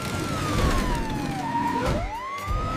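Cartoon siren from the Robocar Poli rescue vehicle, a steady wailing tone that sweeps down and back up, loud and close over a continuous bed of vehicle and background noise.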